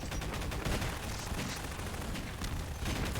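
Gunfire in Half-Life 2: Deathmatch rattles in dense, continuous bursts, mixed with blasts from thrown grenades, all at a fairly low, even level without any speech.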